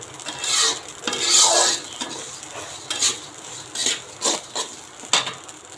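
Puffed rice for mithai muri roasting and being stirred in a wok, with scraping and rustling strokes in uneven bursts, fairly close and moderately loud with no talk.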